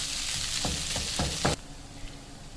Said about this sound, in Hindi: अब इसमें मैं ये आलू शामिल कर दूंगी। तो अच्छी तरह आलूओं को मसाले के साथ मिक्स कर लेंगे।